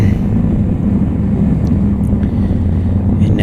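A propeller aircraft taxis in the IL-2 Cliffs of Dover flight simulator, its engine holding a steady, loud low rumble throughout with no speech over it.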